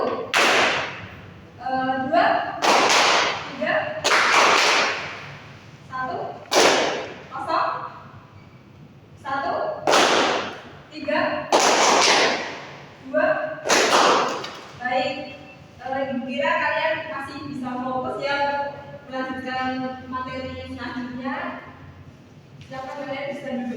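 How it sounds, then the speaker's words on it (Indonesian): Hand claps in a classroom counting game, sharp separate claps in short groups between a teacher's spoken counts, with talking throughout. "kalau bilang satu itu kalian tepuk satu gitu ya"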